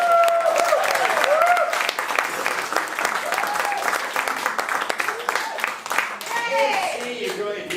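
Loud, sustained audience applause and clapping for a stand-up comedian at a Glasgow comedy show, dense and continuous, with a few whoops and voices among the crowd.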